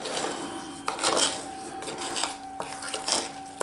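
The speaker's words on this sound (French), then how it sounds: "Je verse tout le mélange dessus, ma graine. Je remue." Couscous grain mixed with olive oil for homemade tabbouleh, stirred in a bowl with a utensil, giving soft gritty rubbing and a few light clinks against the dish, close and quiet, with no voices.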